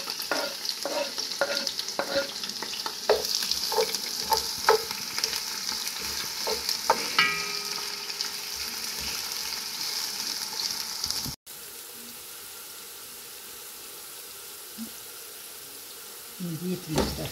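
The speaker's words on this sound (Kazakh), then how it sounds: "Бірінші пиязын қуырып аламыз." Onions fry in oil with a lively sizzle and a run of rhythmic stirring scrapes, then the sound cuts and drops to a quieter, steadier hiss.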